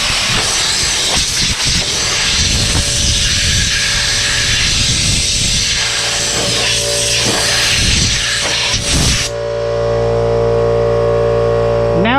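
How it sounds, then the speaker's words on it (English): Air blowgun on a compressor hose blasting a loud, steady hiss into the engine bay of a 2016 Hyundai Accent, close up, cutting off near the end to leave a fainter lingering hum. "what I got is my blowgun that's attached to my air compressor"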